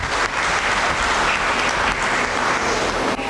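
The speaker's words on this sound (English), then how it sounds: "Can we give a round of applause to our author and the chief guest?" An audience at a book launch gives the author and chief guest a round of applause, a loud, dense burst of clapping close by that holds steady for a few seconds.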